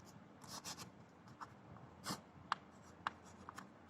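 Pencil or pen drawing a rough sketch by hand, quiet scratchy strokes with intermittent short taps and pauses, close and faint, with no voices.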